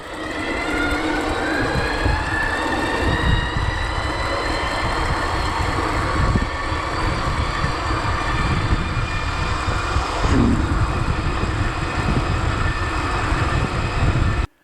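An electric bike with a 5000W CYC X1 Pro mid drive motor accelerates. A steady whining motor tone climbs in pitch over a rough, loud rolling roar, with no talking.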